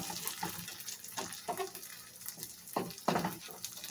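Tater tots pressed into a hash brown patty frying in a pan, a soft crackling sizzle with scattered pops and light scraping, close and fairly quiet.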